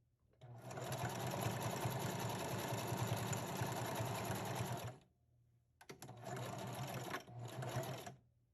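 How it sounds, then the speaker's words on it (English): Sewing machine stitching a glueless wig, running in a steady fast whir for about five seconds, pausing briefly, then resuming in two shorter bursts with a short break between. "if you're going to start to do wigs on a sewing machine, make sure you take your time"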